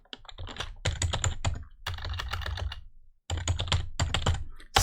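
Close computer keyboard typing, quick bursts of crisp key clicks in several runs separated by short pauses, with no talking over it.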